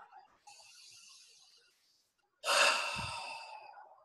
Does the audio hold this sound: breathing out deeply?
yes